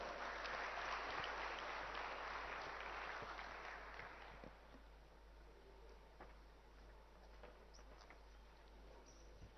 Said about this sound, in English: Can we please welcome him with a warm round of applause?